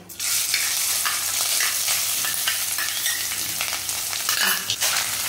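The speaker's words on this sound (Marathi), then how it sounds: "हा आता असा मस्त हलवून घ्यायचा." Grated coconut fries in a pan with hot cinnamon sticks, cloves and cardamom while being stirred, giving a steady close sizzle with repeated scraping strokes throughout and no talking.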